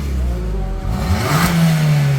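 Suzuki Ertiga engine revving up hard, a loud close roar climbing in pitch and then holding steady at high revs, with no talk over it.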